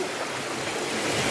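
Floodwater from heavy rain rushes past houses in a constant, loud, broad roar of flowing water with no breaks.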